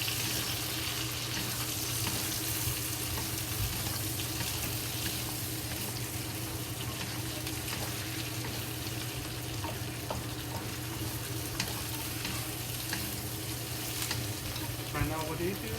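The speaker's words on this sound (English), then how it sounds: "And we stir fry it." Cabbage and bacon stir-fried in a wok over a big flame, a steady loud sizzle with scraping and tossing throughout, no voices.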